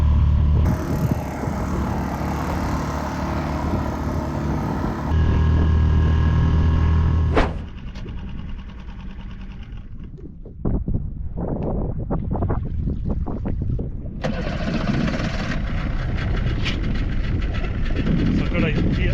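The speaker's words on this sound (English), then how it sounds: "With the kill cord now fitted on the auxiliary engine, I fired it up" Auxiliary outboard engine with kill cord fitted on a boat off the Isle of Skye, heard under steady wind buffeting, then a mechanical sputter and rising motor drone, loud and close to the microphone.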